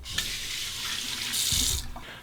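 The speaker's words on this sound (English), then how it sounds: "A final rinse with cold water." Cold water running steadily from a tap into a sink for a final rinse after a shave, a continuous close splashing hiss throughout.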